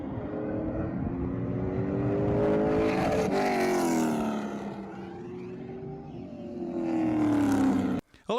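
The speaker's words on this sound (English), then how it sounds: "It's just the first time race cars have been on the track at Wenatchee Valley's Super Oval." Race cars roaring around Wenatchee Valley's Super Oval, loud engine notes rising and falling as cars pass, with a swelling approach near the end before an abrupt cut.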